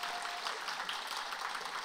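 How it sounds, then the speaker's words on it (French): A church congregation applauds its choir in a steady, even wash of many hands clapping, moderately loud and unbroken for the whole short stretch. "Est-ce qu'on peut les applaudir, les remercier"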